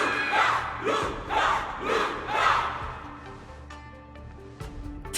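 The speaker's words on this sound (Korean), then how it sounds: "들려요? 모두가 벨로보그의 루카, 당신의 이름을 환호하고 있어요." A crowd in the Honkai Star Rail video game cheers a fighter's name in three or four rhythmic rising chants, loud and massed, then fades to a quieter murmur with a few sharp sounds near the end.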